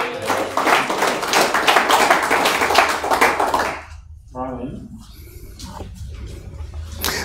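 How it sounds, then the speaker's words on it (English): A church audience claps hands in a lively burst of dense clapping for several seconds, then it stops and a voice speaks with a few scattered claps afterward. "Give him a hand clap."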